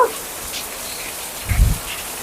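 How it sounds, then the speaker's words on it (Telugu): Steady rain falls and patters on surfaces, including an outdoor air cooler, with a soft low thump partway through. "ఇంకా వర్షం అయితే సూపర్గా పడిపోతుంది."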